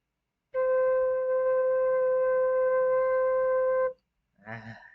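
A single sustained note Re on a Thai khlui phiang o bamboo flute, held steadily for about three seconds, clear and close, followed by a brief murmur of a voice.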